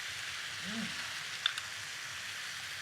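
Three generous tablespoons of curry paste for beef rendang hitting hot oil in a pan, giving a soft, steady sizzle with a faint stir, quiet and alone.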